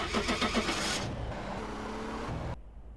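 A car engine starting in the GTA MTA roleplay game, a short burst of cranking pulses that catches into a smooth idle hum, fairly quiet, then drops off abruptly.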